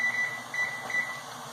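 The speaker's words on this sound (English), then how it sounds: "So I'm actually going to set a timer." A kitchen timer is set while cauliflower cooks on medium-high heat, giving three short high-pitched beeps at an even pace over a soft kitchen hum.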